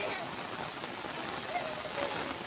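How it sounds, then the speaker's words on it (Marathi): Heavy rain pours steadily onto a small rooftop slab area, a dense continuous hiss throughout, with a voice speaking faintly over it. "खूप जोराचा असा पाऊस चालू झाला आहे"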